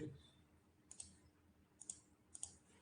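A computer mouse gives a few sharp, quiet clicks spaced irregularly apart over a faint room background.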